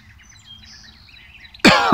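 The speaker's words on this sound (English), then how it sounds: "I'm not sure what kind of bird that is, but he's been chirping since" A wild bird chirps faintly outdoors at sunset in scattered, high-pitched calls, then a loud, close human cough cuts in near the end.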